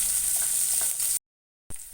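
Ginger, garlic and green chilli are sautéed in oil with a steady close sizzle and faint stirring, cut off abruptly by a short gap of silence before the hiss returns briefly.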